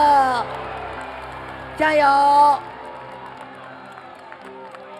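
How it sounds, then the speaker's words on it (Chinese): Crowd at a nighttime political campaign rally on Ketagalan Boulevard in Taipei breaks into cheering and applause in short bursts, mixed with a loud amplified speaker talking over a PA. "为远方来的我们的同胞掌声鼓励一下，好不好？"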